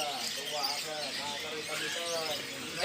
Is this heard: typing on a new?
no